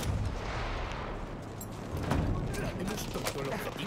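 Gunfire in the World War I shooter Battlefield 1 during an attack, with rumbling bursts and scattered shots under continuous battle noise while players talk over it.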